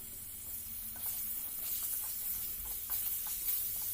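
Olives (jalphai) tipped into hot spiced oil for a homemade pickle fizz with a steady, moderate sizzle that swells a little partway through, with no voices.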